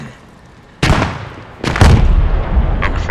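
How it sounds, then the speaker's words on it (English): Artillery shells land during a Post Scriptum match: a sudden loud boom, then a second, heavier blast with rumbling debris and a trailing crackle, close and forceful. "Artillery inbound."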